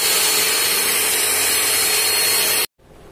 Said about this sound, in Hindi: इसमें काफ़ी टाइम लगता है एक्चुअल में ब्लेंड करने में